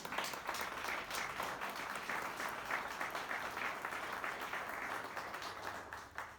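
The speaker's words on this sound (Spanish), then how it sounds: "Dale ese aplauso al Rey." A church congregation applauds during a Christian sermon, a steady wash of many hands clapping together that holds for several seconds at a fairly low, distant level with no voices over it.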